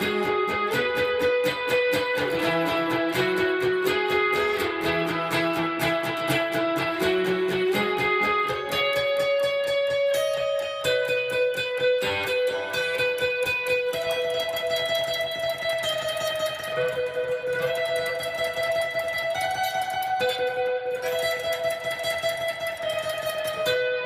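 An electric guitar with effects plays the chorus of a song, a continuous stream of sustained, layered notes with a shimmering echo, steady and moderately loud throughout, with no talking.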